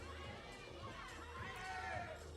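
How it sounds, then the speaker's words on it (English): Local crowd at an outdoor lead climbing competition at the sports centre in Imst, Austria, shouting encouragement to a climber, a faint distant wash of scattered voices and cheers. "A few shouts from around the sports centrum here in Imst."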